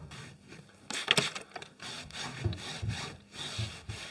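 Screwdriver shank rubbed firmly along a wooden panel joint, a series of rough scraping strokes at an uneven rhythm, close and fairly quiet, with no talk.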